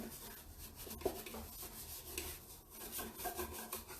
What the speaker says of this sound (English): I'm just using the big brush from Redesign with Prima. It's the natural bristle brush